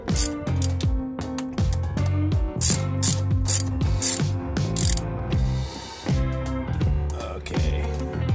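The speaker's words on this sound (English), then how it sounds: "the ratchet on here" A ratchet tightens bolts on the aluminum thermostat housing of a Mercedes C230 Kompressor, loud rapid clicking in quick bursts with short pauses between strokes.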